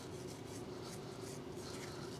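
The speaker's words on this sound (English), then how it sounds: "you're going to take a wire brush" A wire brush scrubs rust off a brake caliper bracket in a steady, faint, rapid rasping, continuous over the short stretch.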